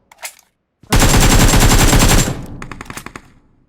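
Loud, close automatic gunfire in PUBG Mobile, a dense sustained burst of just over a second followed by a string of separate shots that trail off, with a brief sharp sound just before the burst.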